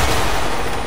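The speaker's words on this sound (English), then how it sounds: "Flashbang!" A flashbang grenade detonates in Call of Duty Black Ops, a loud, dense, sustained blast of noise that fills the whole moment without any talk.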